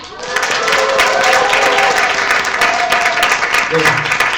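A book concert audience claps loudly and steadily for several seconds, the applause fading slightly near the end.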